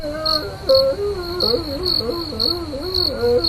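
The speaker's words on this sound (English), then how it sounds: "You're gonna get crickets." Crickets chirping in rhythmic bursts, a close, loud, shrill pulsing trill repeating steadily at a high pitch, with a faint warbling tone drifting underneath and no voices.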